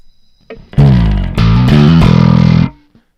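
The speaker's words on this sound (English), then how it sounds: "And then there's also like a mean channel bit fuzzer going on here." A harsh, heavily distorted synth stack run through a mean channel bit fuzzer plugin, with loud, dense buzzing chords that swell in after a short lead-in and hold steady for about two seconds before cutting off.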